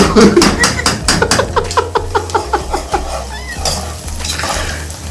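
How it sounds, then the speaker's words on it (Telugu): A spoon clanks rapidly and rhythmically against a pot while mutton curry is stirred, a loud close run of metallic taps over a low sizzle that slows and softens toward the end. "కూర చాలా చెంచా కొడుతున్నావు సురేష్"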